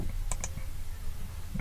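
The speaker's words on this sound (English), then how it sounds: "Click to create the point." Two quick, light mouse clicks close together, heard alone over a faint steady background hum.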